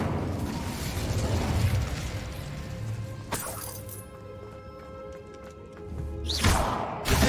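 An Incendio fire spell cast in Hogwarts Legacy, with a sharp crackling burst followed by a fading whoosh and a second flaring blast near the end over ambient game sound.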